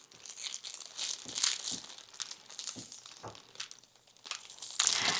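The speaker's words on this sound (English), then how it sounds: "Put our ribbon on." Ribbon being handled and tied around a wrapped coffee mug gift, quiet crinkling and rustling of paper and ribbon in short scattered bursts, close and faint, no talk.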